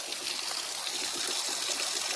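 A waterfall in Gujarat, amid green grassy hills, gives a steady, soft rush and trickle of falling water, distant and even throughout, with no talking.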